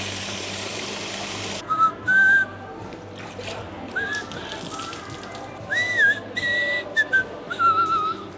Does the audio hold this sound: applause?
no